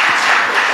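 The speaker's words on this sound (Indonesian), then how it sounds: "tepuk tangan kangge ibu kerudung hitam." A brief, loud burst of applause from the congregation at an Islamic pengajian gathering, a thick dense wash of clapping hands lasting under a second, close and without speech.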